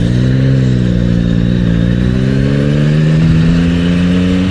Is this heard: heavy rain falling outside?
no